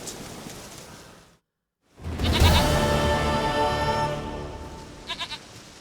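A goat in The Witcher 3 bleats in a long, loud, wavering cry after a brief silence, with a few short trailing bleats near the end over soft ambient rain-like hiss.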